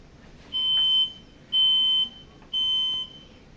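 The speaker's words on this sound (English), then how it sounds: "Later, the timer goes off, but the grandpa doesn't hear it." Three evenly spaced high-pitched electronic beeps, each about half a second long, ring out clearly over a quiet background.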